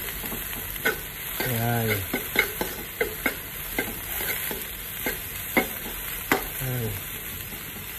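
Water spinach (kangkong) stems sauté in a hot pan, a steady sizzle with repeated scraping stirs and clinks throughout, while a voice speaks briefly twice.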